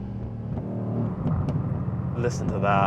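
A Mercedes-AMG GLC 63S exhaust rumbles close as the throttle eases off, a deep, steady drone that grows rougher toward the end, with someone speaking briefly over it.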